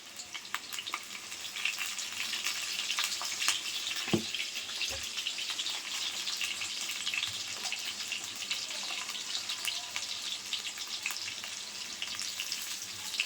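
Potatoes frying in oil after a pinch of salt, with a steady close sizzle crackling throughout and a couple of soft clinks from stirring.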